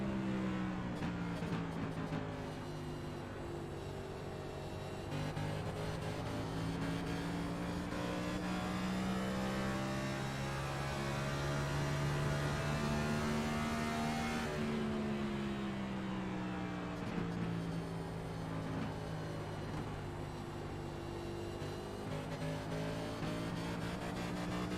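A Ford race car in a Metro Ford Cup Series online racing game at Phoenix drones with a steady, oddly sounding engine note that rises and falls slowly through the laps, holding a constant roar without clear downshifts.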